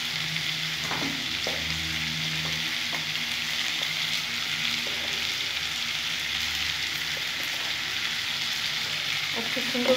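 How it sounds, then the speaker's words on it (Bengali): Potatoes frying in hot oil, seasoned with salt and turmeric, give a steady close sizzle throughout, with occasional soft stirring scrapes and no talk. "খুব সুন্দর করে আমি আলুগুলো ভেজে নেব।"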